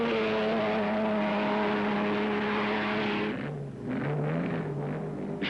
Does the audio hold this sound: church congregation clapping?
no